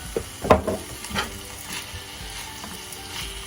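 Beef nacho mixture with Tabasco sizzles in a pan as it is stirred, with a few clattering scrapes of the utensil near the start over a steady close frying hiss.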